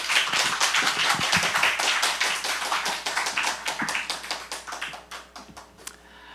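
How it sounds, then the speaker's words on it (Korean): A church congregation claps in warm, sustained applause to welcome a pastor at a Sunday worship service, dense and loud at first, then thinning out and fading toward the end. "박수로 환영하겠습니다"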